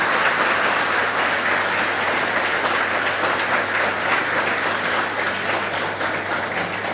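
Dense, steady applause from a seated audience welcoming the main speaker at a career guidance seminar in a Navsari library hall, loud and unbroken throughout.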